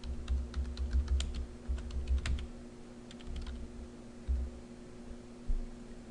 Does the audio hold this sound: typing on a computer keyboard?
yes